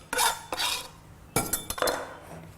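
A spoon scrapes vanilla bean seeds into a bowl of ice cream and then stirs it, giving two short scraping bursts followed by a longer, clinking stir. The sounds are close and there is no talk.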